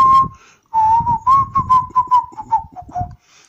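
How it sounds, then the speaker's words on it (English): One person whistles a short, wavering melody of quick notes, clear and close, with brief pauses between phrases and no talk. "Whistles."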